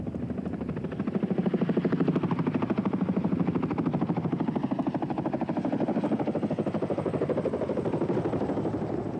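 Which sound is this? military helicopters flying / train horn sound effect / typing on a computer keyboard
military helicopters flying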